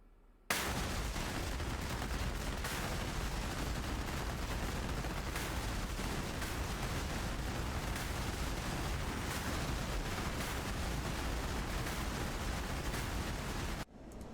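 CBU-105 cluster bomb submunitions bursting over a target in the DCS combat flight simulator: a dense, continuous crackle of many small explosions that rumbles loudly for over ten seconds.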